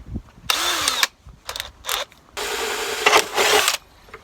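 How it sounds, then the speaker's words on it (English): Close, loud power drill whirring in several short bursts of about half a second to a second and a half while boring 1/8 inch holes in aluminum sheet held with Clecos, with a brief mechanical click between runs. "Alright, so we're going to be drilling some 1/8 inch holes."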